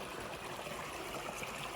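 Creek water runs steadily near a gravel lane crossing in rural Mathias, West Virginia, a continuous close trickling and rushing wash with no voices.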